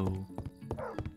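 Dogs barking in the Minecraft video game, a run of short yips and bow-wows spaced through the moment, close and fairly loud over a steady game background.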